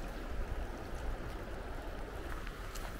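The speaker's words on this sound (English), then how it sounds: "So here is the river." Cold river running high near a pier, a steady, faint rushing flow of water with no other clear sounds.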